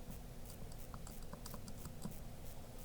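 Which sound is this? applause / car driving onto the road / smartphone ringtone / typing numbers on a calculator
typing numbers on a calculator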